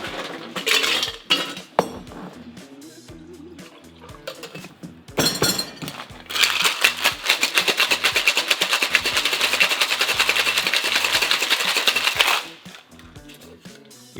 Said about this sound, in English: We're going to shake and fine strain this drink into our chilled coupe now.